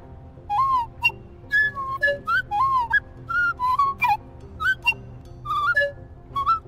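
Whistling, creaking voices of small creatures in the video game Tails of Iron: a quick series of short, chirpy, sliding whistles in an irregular, conversational rhythm over a quiet low background hum.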